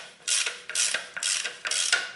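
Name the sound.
ratchet tool loosening transmission drain bolt on Toyota Corolla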